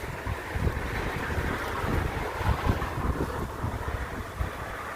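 Strong wind roaring across an outdoor grill spot with flags whipping nearby, a loud, continuous low rumble of gusts buffeting the microphone throughout, with no voices.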